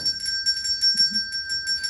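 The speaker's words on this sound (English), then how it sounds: "The tussle-haired bellboy went around ringing the bell." A bright bell rings steadily in rapid repeated strokes, its clear tones sustained and shimmering, fairly close with no talking.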